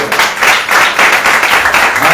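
Loud, close applause from a church congregation, dense clapping swelling in waves, with a voice talking over it.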